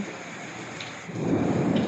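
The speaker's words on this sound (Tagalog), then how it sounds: "Kaya lang, umuulan." Steady rain hisses down in the Philippines, growing a little heavier partway through, with no voices.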